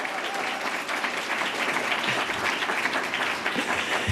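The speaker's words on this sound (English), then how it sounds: "come on, let's clap." A live audience claps steadily and loudly throughout at an evening political forum, a dense continuous wash of applause with some voices mixed in.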